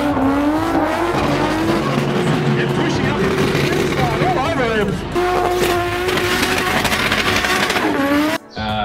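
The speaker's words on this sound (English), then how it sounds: "I got a ATR45 upper gear turbo. This 25 DT box, welded diff, broad seats, RB25 sound." A Nissan RB25 with an ATR45 turbo, 25DE gearbox and welded diff revs hard and continuously, engine note rising and falling with possible tyre squeal, loud and close throughout with a brief drop near the end.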